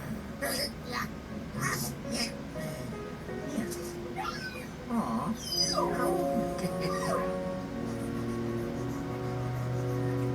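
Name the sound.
dog barking and whimpering, Proto Pup from video game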